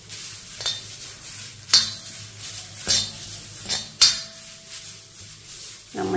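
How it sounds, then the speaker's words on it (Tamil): Dried curry leaves dry roasted in an iron kadai, heard as a few distinct metallic scrapes and clinks of a ladle against the pan over a low, quiet background. "இப்போ இதையும் லைட்டாக வறுத்துக்குவோம்."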